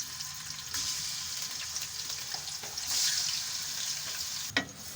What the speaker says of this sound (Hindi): चिकन को हम इसमें फ्राई कर लेंगे। अब चिकन को हम ऐड कर देंगे।